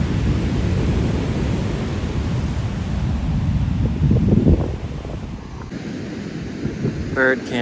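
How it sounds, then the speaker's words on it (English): On a Seaside, California beach, ocean waves break at high tide in a steady, loud rush with strong wind buffeting the microphone. The surf swells near the middle and then eases, and a faint bird call comes in at the end. "I'm gonna try to actually film the wave."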